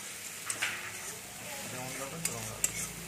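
Water added to a hot pan of egg curry masala with oil, setting off a steady sizzle and bubbling, with light stirring clicks of a utensil against the pan.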